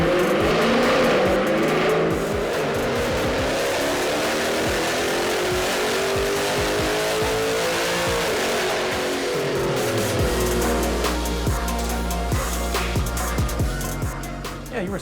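A 6.4L Hemi V8 with a COMP Cams Stage-2 valvetrain on a dyno, revving through a rising full-throttle pull, loud and close, then settling to a lower steady drone near the end.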